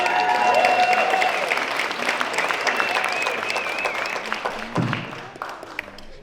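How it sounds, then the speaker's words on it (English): Audience applause at an awards show during a film festival, a dense wash of clapping from a large crowd that stays loud and steady before slowly thinning out toward the end. "Let's give a round of applause for all of our international creators."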